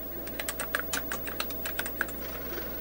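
Keys tapping on a SOL-20 computer keyboard, a quiet irregular run of distinct clicks close up, with a steady low hum in the background.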